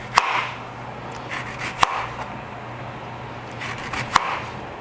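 A knife cuts fruit into thin slices for rose sangria, giving a few sharp, sparse chops on a cutting board at irregular intervals, close and fairly quiet, with no talking.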